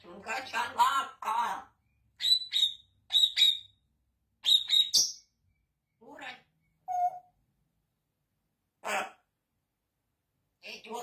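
A pet parrot chatters nearby in short, speech-like bursts and sharp whistles, separated by brief pauses, with quieter squawks toward the end.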